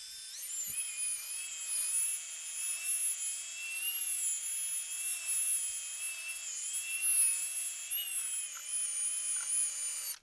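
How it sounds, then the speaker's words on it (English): A high-pitched, steady whine of a power sander wet-sanding a car headlight lens runs continuously, close and loud, with slight fluctuations in pitch. "And continue sanding."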